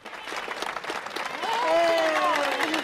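Crowd applause at the ribbon cutting for a new basketball court dedicated to a late club official, moderate clapping mixed with voices and a rising tonal sound partway through.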